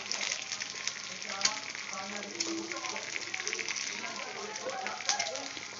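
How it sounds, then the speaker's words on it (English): An egg frying in a hot pan gives a steady, moderately loud sizzle and crackle that runs the whole time, with a few sharper pops. "I'm going to break second egg and put it this on pan."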